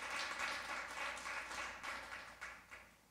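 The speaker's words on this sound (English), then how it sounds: "Let's give him a clap offering." A church congregation clapping together as a clap offering during a sermon: a faint, distant wash of many hands that fades in waves toward the end.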